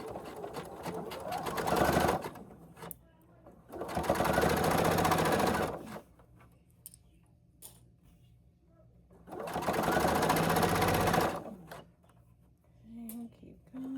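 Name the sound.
sewing machine stitching a quarter inch seam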